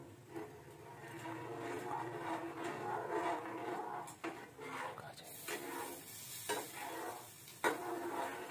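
Jaggery syrup for Kerala jackfruit payasam being stirred in a pan, giving soft scraping and bubbling with a few louder clinks of the spoon, fairly quiet overall.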